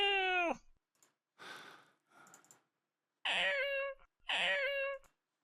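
A human voice imitates a cat for a video game, making several drawn-out meows that rise and fall in pitch. Breathy, hissing exhales fall between the calls, and short silences separate each sound.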